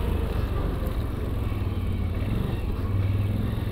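A 2024 CFMOTO 1000 Gen3 ATV engine runs steadily in normal mode while riding on a trial track, a continuous low, rumbling drone with some clatter, close and without speech.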